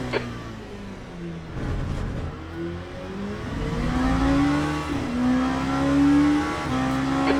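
Race car engine in the Le Mans Ultimate video game, a steady loud drone that rises in pitch as the car accelerates, with no talking over it.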